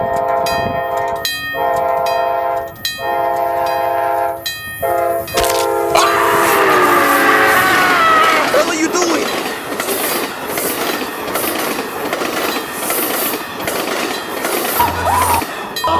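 A train rumbles past on the tracks, blaring its horn in repeated loud blasts before the steady roar and rattle of the cars take over.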